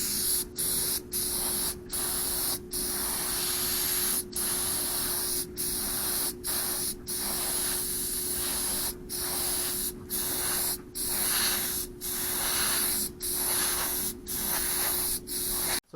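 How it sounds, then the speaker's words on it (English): Enamel gloss white being sprayed over a vehicle, a steady close hiss that breaks off briefly every second or so as the trigger is released between passes, with no talking. "I'm going to be just spraying the whole thing in an enamel gloss white"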